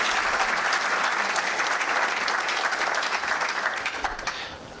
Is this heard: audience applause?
yes